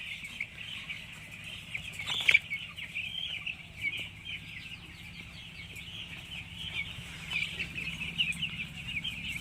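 Chicks cluck and chirp continuously while feeding in a crowded two-tier raised-floor poultry shed with a conveyor belt, a dense steady chorus with a low hum underneath.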